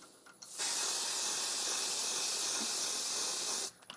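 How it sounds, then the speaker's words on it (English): Cheap clear gloss lacquer sprays from an aerosol onto an orchid saucer turning slowly on a lathe: one steady, close hiss lasting about three seconds, with no talking. "So I'm just using a cheap clear gloss lacquer here, and just got the lathe spinning up when it's slowest"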